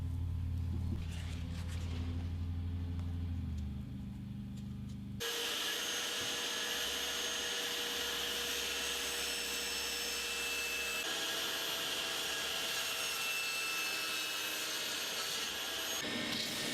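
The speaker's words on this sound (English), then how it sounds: "the 8 flange plates of the arm are milled in a few minutes" A router whines loudly and continuously as it mills wooden flange plates along a template, a steady high-pitched roar after a quieter start, with no talking.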